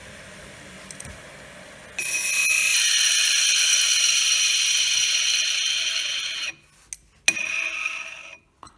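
A single-phase capacitor induction motor on an industrial sewing machine hums and whines steadily at close range for several seconds, then winds down, followed by sharp clicks and a short second burst.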